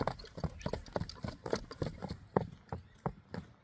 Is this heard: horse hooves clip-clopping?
yes